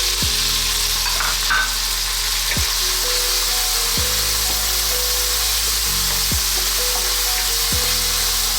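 Tomatoes and onion sizzle steadily in a hot frying pan for Filipino stuffed milkfish, a continuous close hiss broken by periodic scraping stirs of a utensil against the pan.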